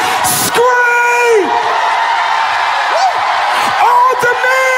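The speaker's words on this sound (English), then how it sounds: "All the ladies, scream." Women in a church congregation let out high, rising whoops and screams, several overlapping voices rising and falling in bursts across a lively, echoing room.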